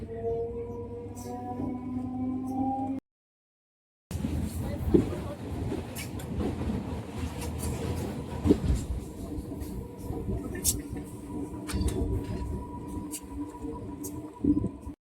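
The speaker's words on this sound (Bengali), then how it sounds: "দেখো ট্রেন ছেড়ে দিয়েছে" A train rumbles steadily nearby as it pulls away and runs, with low rolling noise, occasional squeaks and clanks, and voices faintly underneath.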